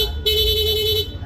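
A Yamaha Aerox V2 scooter's dual horn blares once, a loud, close, steady tone held for about a second after a brief pause, with no talking.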